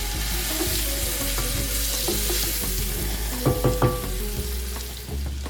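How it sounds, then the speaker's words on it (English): Sliced peppers and onions sauteing in a pan, moved around with a utensil: a steady close sizzle with scattered clicks and a cluster of louder scraping knocks near the end, no speech. "So we're gonna saute."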